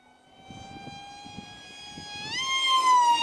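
An RC Powers F18 V5 electric model jet flying at about half throttle, its high whining motor tone holding steady, then rising sharply in pitch and growing louder as it speeds past.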